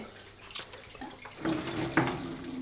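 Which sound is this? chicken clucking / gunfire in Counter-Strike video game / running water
running water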